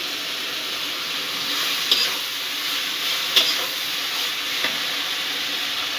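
Chopped jute leaves fry in a pan with a broad, even hiss of sizzling oil and steam, broken by a few faint clinks of a utensil, with no voices.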